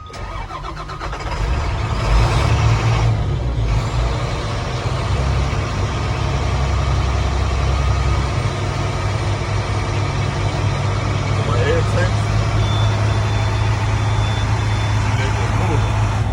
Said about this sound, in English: start my truck back up, give it a little gas until we hit 15